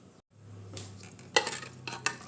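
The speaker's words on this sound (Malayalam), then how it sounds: "ഇതിൽ കുറച്ച് നെയ്യ് ഒഴിച്ച് കൊടുക്കാം കേട്ടോ അതിലൊന്ന് നമുക്ക് ഈ പരിപ്പിനൊന്ന് വഴറ്റിയെടുക്കാം" Lentils sautéing in ghee inside a bronze uruli for Onam parippu pradhaman, with a low steady sizzle, a few scraping stirs and sharp metallic clinks of a spoon against the vessel, fairly close and without talk.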